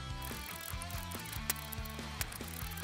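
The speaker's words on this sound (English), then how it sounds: "Black pepper. I use this little pepper grinder." A small hand pepper grinder cracks black pepper over prime rib in a quiet, rhythmic run of ratcheting clicks with a couple of sharper snaps and no voices.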